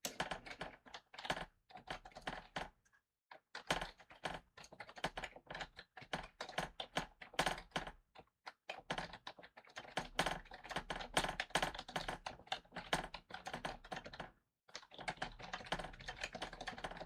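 Steady rapid typing on a computer keyboard, close and clear, in dense bursts broken by brief pauses, with no talk.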